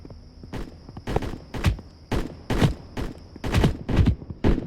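Repeated gunfire aimed at a person in a vest-versus-shirt protection test: about nine sharp, loud shots in irregular bursts over a steady high whine, with no talking.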